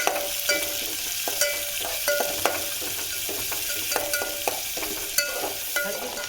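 Chopped onions fry with cumin seeds in a pan, with a constant soft sizzle broken by frequent sharp scrapes and clicks of a spoon stirring against the metal; no talking.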